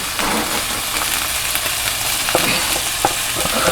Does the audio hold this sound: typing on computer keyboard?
no